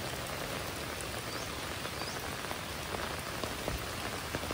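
Steady rain pours down in a thick, close patter of drops hitting surfaces, continuous and even with faint scattered taps and no talk.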